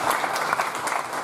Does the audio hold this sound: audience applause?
yes